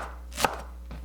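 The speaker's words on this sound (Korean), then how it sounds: "파 20cm 정도 되는 길이를 쫑쫑 썰어서 준비합니다." A kitchen knife strikes a cutting board as a green onion stalk about 20 cm long is finely chopped for doenjang jjigae: one sharp close chop, then a fainter second tap, with no voices.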